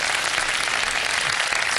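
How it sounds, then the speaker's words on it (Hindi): A studio audience at a televised Iftar show claps in a thick, continuous burst, loud and even throughout without any talking. "एक बार फिर बहुत सारी तालियां अगर बजा दी जाएं"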